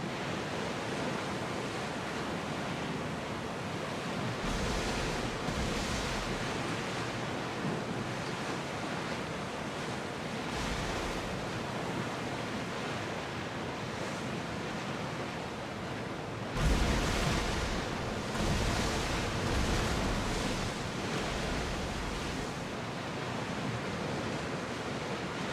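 Wind rushes steadily while sea waves wash and surge around a sailing ship in the video game Assassin's Creed Odyssey, loud and continuous, swelling in a few heavier gusts and crashes.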